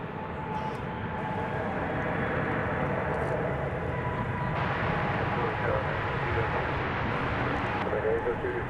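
An American Airlines Airbus A321 arriving from Philadelphia at DFW Airport gives a steady, fairly loud jet-engine roar that holds through the whole stretch, with a slight swell partway in.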